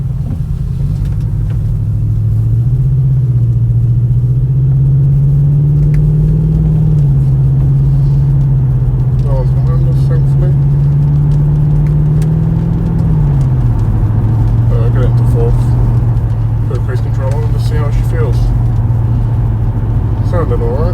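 An Audi RS6 engine idles steadily nearby as a loud, constant low rumble, with a slight rise in pitch around the middle and then settling lower, running on without a break for about twenty seconds.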